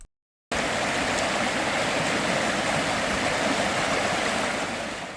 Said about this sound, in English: let's go back down to the riverside and enjoy the crystal clear water